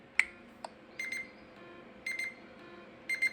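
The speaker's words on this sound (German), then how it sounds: "Das ist richtig lautes Piepsen eigentlich. Und das ist nur mit Vibrationen wie erzeugt" A Nintendo Switch 2 Joy-Con produces loud beeps through its vibration motor, a sharp blip followed by three clusters of piercing, buzzy tones at steady intervals.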